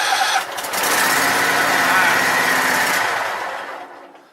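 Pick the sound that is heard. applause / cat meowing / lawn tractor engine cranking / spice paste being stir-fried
lawn tractor engine cranking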